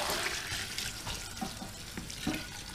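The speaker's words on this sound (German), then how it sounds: "Mach Wasser rein." Water runs from a tap into a cooking pot while potato soup is being made, a steady splashing stream that keeps flowing at close range throughout, with no talking.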